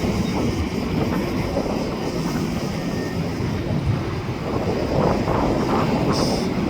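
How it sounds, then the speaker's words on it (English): An eastbound train pulls away near the 22nd street station, a steady broadband rumble of rolling cars that carries through the whole stretch, with wind buffeting the microphone and no voices. "And there goes an eastbound train leaving."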